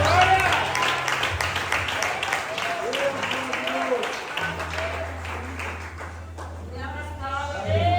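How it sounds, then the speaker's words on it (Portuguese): Congregation applauding during a church service, a steady wash of clapping from many people that runs throughout, with a low sustained organ or keyboard tone underneath and voices mixed in. "Aplauda Jesus."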